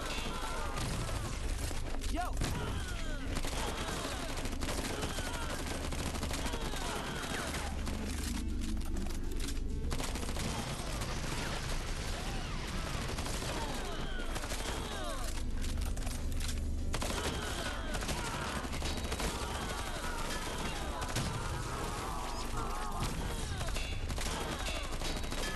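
Continuous stationary-shooting gunfire from the video game Barack Fu: The Legend of Dirty Barry on Switch, a dense, steady barrage of rapid shots with game music and effects underneath, running without pause.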